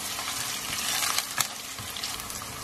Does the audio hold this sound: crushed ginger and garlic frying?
yes